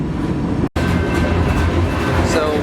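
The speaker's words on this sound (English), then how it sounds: "I'm hopping a fucking train" A freight train rolls along the tracks on the Great Plains, loud and close with a steady rumble and rattling wagons, a brief dropout early on, and faint rhythmic clatter from the wheels.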